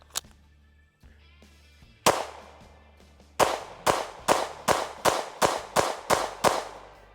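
Smith & Wesson M&P Carry Comp Metal pistol firing: a few separate sharp shots, then a quick, evenly spaced string of about nine loud, close reports, each with a short ringing tail.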